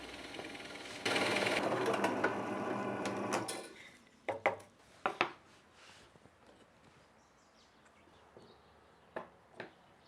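Forstner bit boring a 25mm hole, a loud whirring cut lasting about three seconds that stops abruptly, followed by a few sharp knocks and taps from handling the workpiece.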